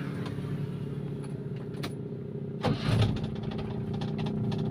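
A motorcycle engine is cranked by its electric starter and catches, a short whirring burst before the engine settles into a steady idle under a constant background hum.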